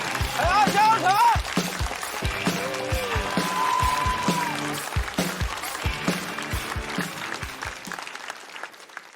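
A studio audience at a stand-up comedy competition claps and cheers as a comedian is introduced, a burst of applause mixed with shouted encouragement and a host's voice, settling down toward the end.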